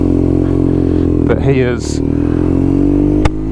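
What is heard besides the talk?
custom BMW R nineT motorcycle engine running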